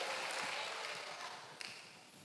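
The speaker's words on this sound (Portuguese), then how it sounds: "Aplauda o Senhor mais uma vez, mais forte esse brado de vitória" Congregation at a Baptist church service applauding together, a steady, dense wash of clapping that fills the whole moment with no pauses.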